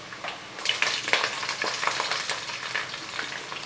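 Ginger, garlic and green chillies hiss and crackle in hot oil in a pan, a steady close sizzle with brief sharper spits and stirring, no voices.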